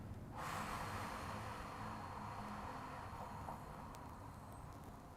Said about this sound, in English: Now I'm going to let the breath out.